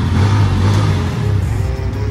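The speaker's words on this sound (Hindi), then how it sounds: "यो गाड़ी की फायरिंग सुनो" A newly delivered motorcycle's engine fires up and revs loudly and steadily close by, a deep throaty rumble rising and holding with no talking over it.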